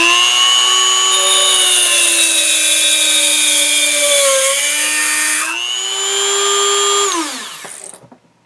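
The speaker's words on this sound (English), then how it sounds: "we're just going to try this standard nail. We got it in a vise, and we'll see how easily this cutting wheel cuts." A Dremel rotary tool with an EZ Lock metal cutting wheel whines loudly and steadily through a standard nail clamped in a vise, its high pitch dipping under load, then winding down to silence near the end.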